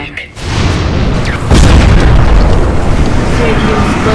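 A tower collapses in Dota 2 with a loud, heavy boom and a rumbling explosion that lasts several seconds at a steady, dense level.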